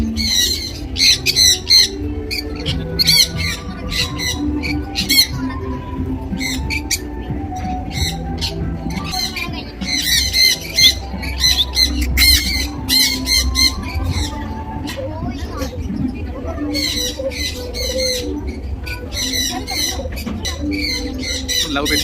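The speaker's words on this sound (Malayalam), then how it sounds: "വിവിധതരം കിളികളാണ് ഈ ഒരു സെക്ഷൻ ഉള്ളത്." Many kinds of birds squawk and chatter busily in an aviary section, sharp calls repeating close by almost without pause, with people talking faintly in the background.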